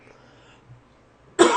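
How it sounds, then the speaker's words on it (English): A single sharp, loud cough bursts close to the microphone near the end, after a stretch of near silence with faint background hum. "Excuse me for coughing in your ear."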